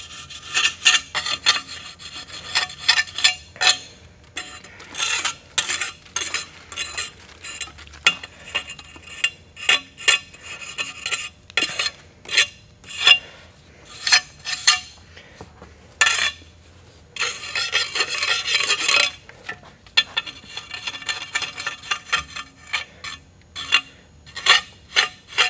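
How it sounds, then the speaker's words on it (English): A trowel scrapes excess fast-setting concrete patch off a repaired surface, rapid gritty rasping strokes repeating in quick bursts, close and fairly loud, with no voices. "We can use our trowel and kind of scrape off the excess."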